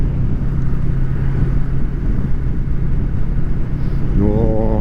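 Honda VFR800 motorcycle on the move, a steady loud roar of engine and rushing wind buffeting the microphone throughout, with a rising engine tone near the end as the bike accelerates.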